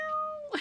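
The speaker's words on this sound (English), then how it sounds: "Could you hear her meowing, you guys, just a second ago?" A domestic cat gives a short meow, a drawn-out tonal call that rises into a brighter burst at the end, close and clear with no talk over it.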